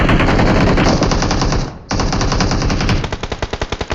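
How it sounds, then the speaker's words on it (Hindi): Loud gunfire in a video game comes from behind the player: a sustained automatic burst, a brief gap, then more rapid fire that breaks into distinct evenly spaced shots near the end, with no voices. "अब किसी ने पीछे से फायरिंग कर दी"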